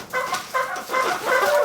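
Chickens cluck inside a barn shed on a cold winter day, giving close, loud, repeated clucks in a steady run of about four calls with no talking.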